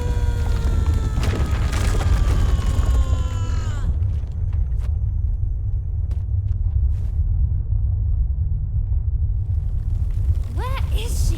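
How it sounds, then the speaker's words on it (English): Heavy thundering footsteps shake the ground in the video game Lost Words: Beyond the Page, heard as a continuous deep, loud rumble with booming thuds, while a voice speaks over the first few seconds. "Thundering steps shook the earth."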